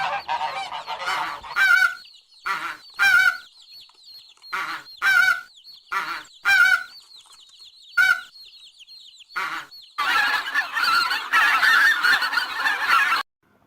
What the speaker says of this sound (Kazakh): Мына құс қаз.